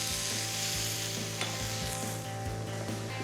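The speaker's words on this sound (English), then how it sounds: "I'm gonna throw our onions and peppers in here. Right into the fat from the sweet Italian sausage." Onions and bell peppers sizzle loudly in rendered fat from sweet Italian sausage, a dense, close frying hiss with a low steady hum and faint periodic taps underneath, and no speech.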